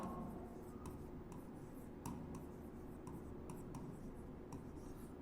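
Chalk or marker writing on a board during a chemistry class, steady scratchy strokes with occasional sharp taps, heard close over faint room noise.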